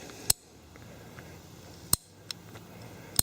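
A ratcheting PVC pipe cutter clamps down on plastic pipe for a target stand, giving a few sharp, isolated clicks, each click a separate ratchet step, heard close and clear over a quiet room.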